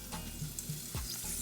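Apple fritters frying in a pan of oil over medium heat, a steady quiet sizzle with faint bubbling pops throughout, close and soft, with no voices.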